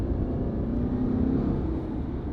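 A 2022 Subaru Outback Wilderness with a turbo engine and CVT pulls away at half throttle, a steady low droning rumble heard from inside the cabin, smooth and unbroken with only a slight rise in pitch.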